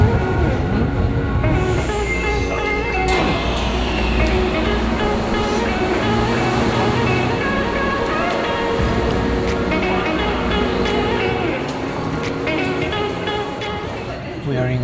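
Interior of a moving train in Japan, a steady loud rumble and rolling hum throughout with mechanical rattles, while people talk in the carriage.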